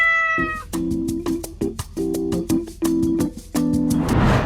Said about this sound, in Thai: เล่นกับแมวเมียวเอ่อหมายถึงแมวจริงๆอะนะ ตัวนี้ ตัวนี้ และอีกหลายตัวเลย